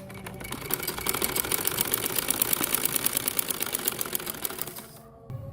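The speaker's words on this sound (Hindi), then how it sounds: "इसके बाद अब हम यहाँ पर इसको सिलाई लगाएंगे।" A sewing machine stitches the lining of an angrakha-style kameez in one continuous run, with a fast, close needle rattle that slows and stops near the end.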